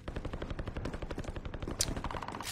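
Rapid automatic gunfire rings out in a shooter video game, dense bursts of shots running continuously and loud with a sharp high crack near the end, no talking over it.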